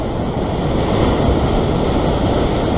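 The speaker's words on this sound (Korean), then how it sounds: "이렇게 큰 파도는 피해야 돼." Big ocean waves crash on a rocky shore, a loud, dense roar of surf that fills the whole moment without a break.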